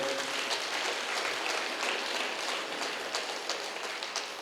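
An audience at an International Meditation Day gathering claps for a singer, a dense, steady wash of applause filling the whole stretch at moderate loudness with no voices over it.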